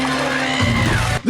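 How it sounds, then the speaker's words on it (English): Screaming from the horror film Child's Play 3, a loud sustained yell with whooping pitch sweeps over a low rumbling film soundtrack, briefly cut off near the end. "Is that Tyler screaming again? No, that's Chucky."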